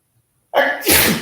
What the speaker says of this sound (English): And I'm going to sneeze, right?